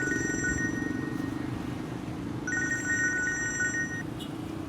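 A telephone rings in two bursts of a bright electronic trill, steady and fairly close, with a low background hum and no talking.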